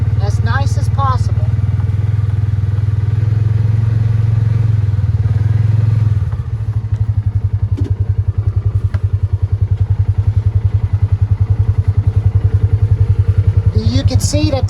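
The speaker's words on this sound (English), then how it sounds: "that's just Lou cruising around on the property" A Ranger 500 utility vehicle drives around a rural property at night, its engine giving a steady low drone that shifts into a rhythmic, close chugging idle after a few seconds, with brief faint voices at the start and end.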